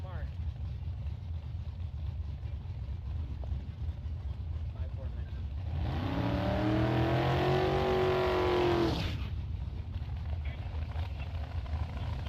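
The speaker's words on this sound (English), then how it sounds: "Brian Dorsett, left lane in that roadster, taking on Steve Rohrs." A drag racing roadster launches and accelerates hard down the left lane at a bracket race, its engine swelling loud for about three seconds over steady track noise before fading away.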